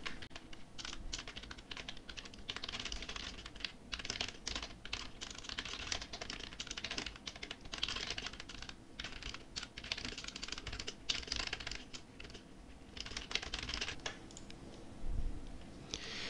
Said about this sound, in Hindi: तो ये यहाँ पर हमने विषय टाइप कर लिया है